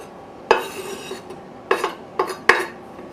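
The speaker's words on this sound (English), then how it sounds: "you can throw in the diced up tomato and the squash" Diced tomato and squash tumble into a pot of turkey soup, giving a few sharp, close clatters and clinks of pieces and utensil against the pot, spaced irregularly with quiet between.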